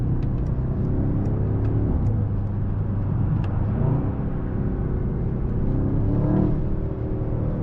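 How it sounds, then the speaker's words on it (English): Steady engine drone of a 2024 Mercedes-AMG S63 with an 800 hp V8, heard from inside the cabin, a continuous low rumble with a faint rising rev near the end. "But also you can hear the engine for sure."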